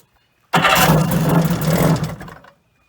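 A 1980 Kawasaki JS440 jet ski engine on choke starts after silence, catching at once into a loud rough buzzing idle for about two seconds before cutting off, close by with no talking.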